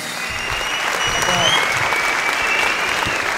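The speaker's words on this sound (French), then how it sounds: "vos camarades réunis ici qui vous applaudissent" Students gathered at a school prize ceremony applaud a classmate, giving continuous, even clapping from a sizable group throughout, loud and close.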